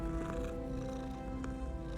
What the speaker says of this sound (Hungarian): A dorombolás az reális.